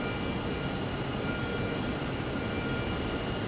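A 22-ton overhead crane lifting a large spool inside a film factory: a steady, even industrial drone and rumble fills the space throughout, with no distinct breaks.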